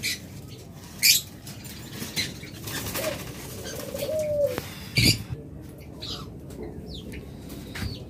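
Caged pet lovebirds, budgerigars, Java sparrows and doves kept as egg-laying breeding pairs give scattered chirps, a soft coo and a drawn-out whistled call, with short sharp bursts standing out over a low background murmur.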